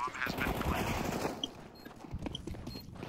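Rapid gunfire in the video game Counter-Strike: Global Offensive, dense bursts of shots clustered at the start, then scattered sharper shots, loud and close.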